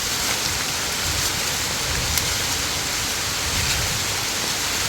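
Dense, steady hiss of heavy rain pouring down, constant and loud throughout with faint scattered drips and patters.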